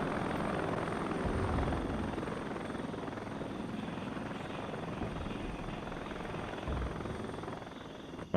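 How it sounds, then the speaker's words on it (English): Mi-8 helicopters coming in to land in the Regiments video game, a steady, loud rotor and engine drone that holds throughout without a break, and no one speaks. "let's have the Mi-24Ks move back, whilst the Mi-8s come into land."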